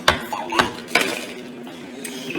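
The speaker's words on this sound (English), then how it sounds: "Now stir it just slow and careful so you don't want it to burn" Cream cheese stirred in a pan with a spoon, giving a few sharp metallic clinks and scrapes at irregular intervals, close and moderately loud, with no talk.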